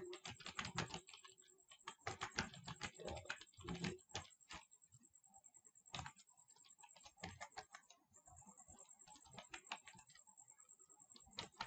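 Fingers type on a computer keyboard while entering Tailwind CSS boilerplate code, producing rapid irregular bursts of close key clatter that thin into sparser, scattered keystrokes toward the end.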